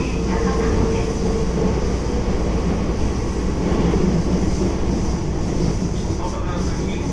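Keisei 3400 series limited express train running between Nippori and Keisei Tsudanuma, a steady loud rumble of wheels and motor heard continuously from inside the carriage.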